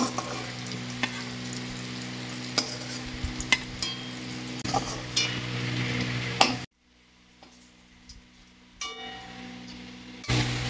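Pointed gourds (potol) fry in hot oil, a steady close sizzle broken by sharp crackles and spatters, which drops away to near silence for a few seconds before the frying noise returns.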